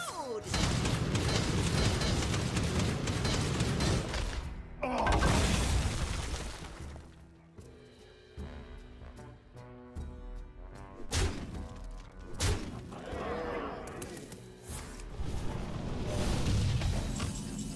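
Explosion effects in Hearthstone, a digital card game: several heavy thuds and crashing booms with shattering debris, loud and close, separated by quieter stretches of music-like game ambience.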